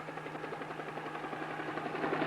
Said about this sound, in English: that's only the traffic control helicopter